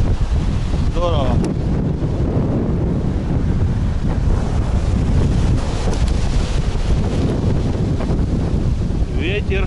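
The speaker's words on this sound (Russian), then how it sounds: "Ветер хорош." Strong wind buffets the microphone at the Black Sea shore in Adler, with surf rumbling beneath and brief faint voices in the distance.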